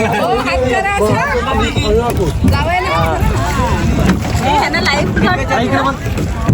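A boat moving on the river at Triveni Sangam gives a steady wash of water and wind noise all the way through, with several people talking loudly and excitedly over it.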